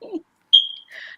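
A smoke alarm gives a single short, sharp high-pitched chirp in a quiet room, with a brief murmur of voice just before it.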